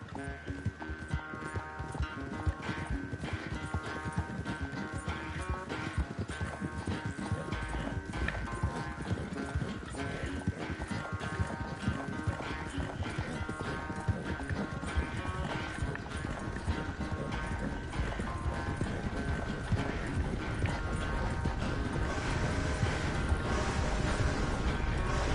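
Horse hooves clip-clop steadily in a PS5 video game, a continuous galloping rhythm under a bed of game music that runs the whole time.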